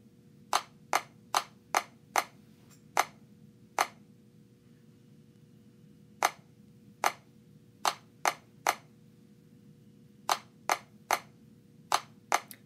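A played-back recorded rhythm pattern in a first grade music lesson, crisp clap-like hits alone over a quiet hum, grouped in short runs of evenly spaced beats with pauses between groups.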